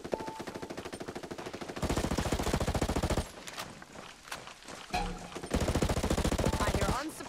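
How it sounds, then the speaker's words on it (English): Enemy automatic gunfire in Ghost Recon Breakpoint, long rapid bursts of machine-gun fire in a steady rattling rhythm, loud and close, broken by short pauses and scattered shots, with voices over it. "Unsuppressed enemy fire."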